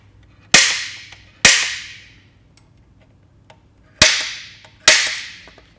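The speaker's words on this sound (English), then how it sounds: "I'm going to punch the locations of where I want to drill and tap." Four sharp metallic strikes of a center punch marking hole locations on a metal track tube ring out, two close together, a pause, then two more, each with a bright ringing decay.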